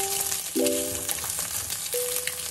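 A fried egg being stirred in a pan for ASMR cooking, with steady close sizzling and frying crackle throughout and a few light scraping stirs.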